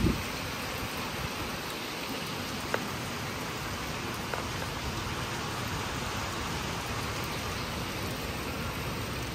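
Light outdoor drizzle falls steadily among green trees, a soft continuous hiss of raindrops without pause or talking, with a couple of sharper drops standing out.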